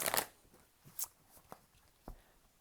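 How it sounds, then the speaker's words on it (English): Tarot cards being shuffled by hand at a reading, a burst of riffling up front followed by a few soft, separate card slaps and flicks in quiet surroundings. "One more shuffle here"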